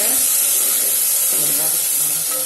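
Drumstick, brinjal and potato pieces tumble into a hot pot for kara kulambu, setting off a steady, loud hiss and sizzle that fills the whole short stretch without pause.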